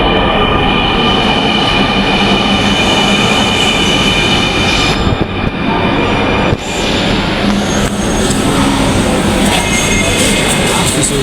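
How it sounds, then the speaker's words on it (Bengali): A metro rail train pulls into a station, loud and close, with a continuous roar of wheels and motor, metallic wheel squeal and brief clattering shifts as it slows. "ওই যে মেট্রো রেল।"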